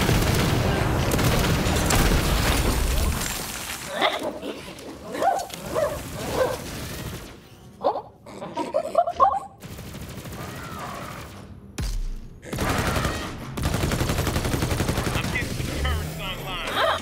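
Bursts of gunfire in Borderlands 3 with heavy booming shots at the start and intermittent volleys later, broken by pauses where players talk over the game.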